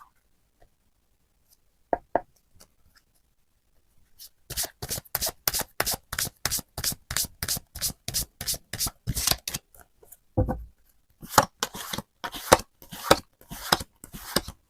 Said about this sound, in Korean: 한 번 더 셔플 할게요.